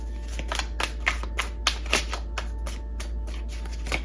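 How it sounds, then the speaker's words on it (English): Tarot cards are shuffled close by in a run of quick, crisp riffling taps and flicks over a steady low hum, with no voice present. "I'll shuffle for some more cards."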